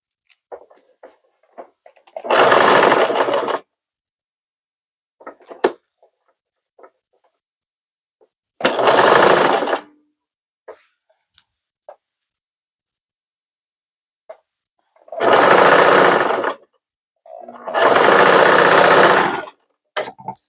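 A sewing machine stitches a keski in four loud, close bursts of steady whirring separated by silent pauses and small handling clicks.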